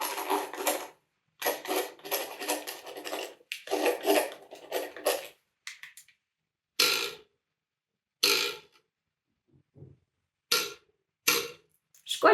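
Scratchy broadband strokes of a pen moving across paper, in bursts separated by short pauses, close and fairly quiet.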